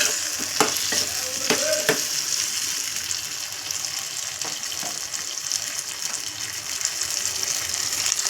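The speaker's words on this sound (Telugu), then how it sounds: "వంకాయలు వేయించుకోవాలండి" Eggplant pieces frying in a little oil in a pan, a steady close sizzle with a few stirring scrapes early on.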